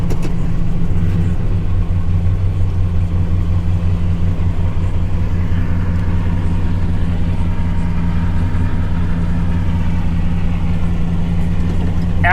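A Ford F150 Harley-Davidson edition pickup with its check engine light on runs steadily, with a loud, even engine drone close by that holds constant throughout.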